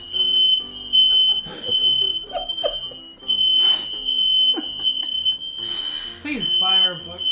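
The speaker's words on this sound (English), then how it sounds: "we know the smoke detectors work." A smoke detector in a kitchen during Thanksgiving cooking shrieks a loud, continuous high-pitched alarm tone throughout, while people talk and exclaim excitedly over it.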